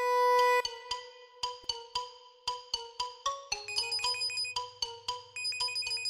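A phone ringtone rings indoors during a Marathi TV serial scene: a bright electronic melody of repeated, evenly spaced notes, clear and close, alone with no talk.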